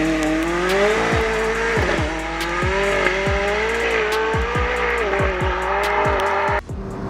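A McLaren 675 LT Spider sports car drives hard, its engine note rising and falling through repeated gear changes while tires squeal, loud and close throughout with no talking.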